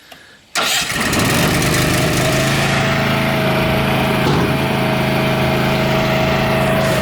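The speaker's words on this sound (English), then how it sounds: "Oh, you got to turn the engine on. That's right. Keep forgetting this is gas." A gas engine on a dump trailer catches and starts, then runs at a steady loud idle, close by and alone without talk.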